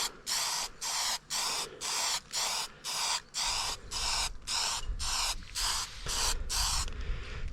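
Repeated short hissing bursts from a spray gun painting an aluminium boat outdoors in a garden, about a dozen evenly spaced pulses, then a longer continuous spray at the end, close by.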